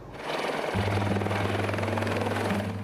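A helicopter flying over Port Hedland at dawn, its steady, heavy rotor thump and engine drone loud and close, holding level throughout with no voices.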